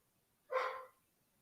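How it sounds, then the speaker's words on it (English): A single short dog bark rings out once, faint and somewhat distant against an otherwise quiet background. "you may hear barking in the background as my dogs get accustomed to our new friend"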